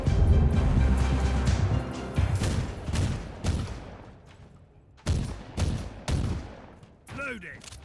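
An artillery strike pounds down in Warhammer 40K Inquisitor Martyr as a rapid volley of loud explosions and gunfire, then several separate heavy blasts, with a brief voice near the end.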